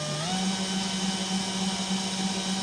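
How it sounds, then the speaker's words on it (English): A power drill spins a homemade yarn winder held up by hangers, giving a steady, continuous motor whine with a slight rise in pitch at the start, close and alone. "I'm just using the drill, and I'm using the hangers to hold it"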